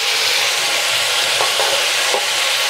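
Spice masala frying in oil in a pan as it is stirred, a steady close hiss and sizzle with a few soft scrapes of the spoon, no talking.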